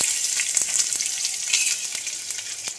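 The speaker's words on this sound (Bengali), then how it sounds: "তেলটা গরম হয়ে গেছে এবার এর মধ্যে একটু দিয়ে দেবো অল্প একটু পেঁয়াজ" Onion frying in hot oil in a kadai gives a bright, steady sizzle with faint crackles and soft stirring taps, close and fairly loud, no speech.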